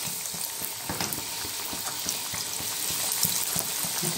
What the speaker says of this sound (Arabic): ننزل بقى كده ايه في الزيت السخن